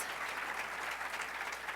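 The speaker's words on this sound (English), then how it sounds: "please, a round of applause for our AmeriCorps members and alums" Audience applause for AmeriCorps members and alumni at an opening session of a conference, a dense, steady wash of many hands clapping at moderate volume, with no voices over it.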